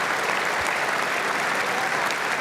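A cricket crowd at Edgbaston during the 2005 Ashes Test applauds a batting stroke, giving a steady, dense wash of clapping that holds at even loudness for the whole stretch, with no speech over it.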